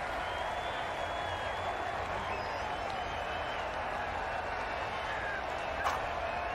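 At the DY Patil Stadium during an SRH versus PBKS cricket match, a stadium crowd applauds a batter with a continuous, dense wash of clapping and cheering that stays steady and moderately loud throughout.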